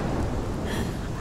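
Rain and a low rumble of thunder during a storm in the video game Life is Strange, a dense continuous wash of noise with a heavy low roll, short and loud without voices.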